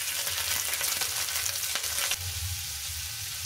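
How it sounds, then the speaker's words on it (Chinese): Minced pork stir-frying in a hot wok with peanut oil, a loud steady hiss and crackle that eases slightly partway through, close up with no talk. "把肉末炒一下，"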